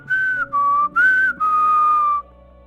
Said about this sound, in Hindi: एकदम सीटी बजाते हुए चल जाता है